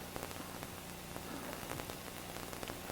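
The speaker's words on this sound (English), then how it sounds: "It's raining a little bit now" Light rain patters steadily near fresh lava fields in Hawaii, a soft continuous hiss with scattered drop ticks throughout, no voices present.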